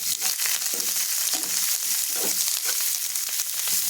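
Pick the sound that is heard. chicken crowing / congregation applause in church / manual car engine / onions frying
onions frying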